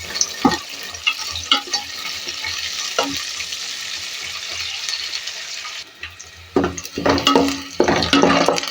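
Six slit green chillies sautéing in hot oil with onions in a pan, a continuous loud sizzle with scraping stirs, growing busier and louder toward the end.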